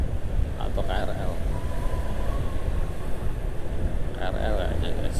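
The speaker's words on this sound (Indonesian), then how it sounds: "Itu ada kereta jarak jauh kayak ini atau KRL" A long-distance or commuter train rumbles past on a busy East Jakarta road near Klender, heard from a passing motorcycle as a steady low roar with metallic squeals and clanks.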